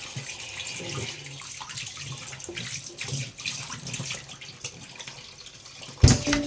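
Tap water runs steadily into a kitchen sink while food is being prepared, a continuous broadband wash with a sharper clatter near the end.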